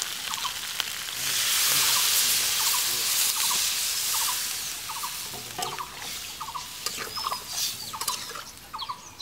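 A pot of desi chicken curry hisses and sizzles as water goes into the hot, well-browned meat, a steady frying hiss studded with rapid crackling pops that fade slightly toward the end.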